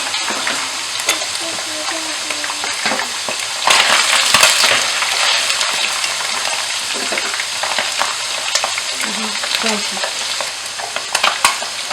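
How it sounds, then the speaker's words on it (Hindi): Chicken frying in a pan while spaghetti boils alongside in a home kitchen: a steady, loud sizzle with frequent sharp scrapes and clinks of stirring, continuous throughout with no talking. "जब तक चिकन फ्राई हो रहा है"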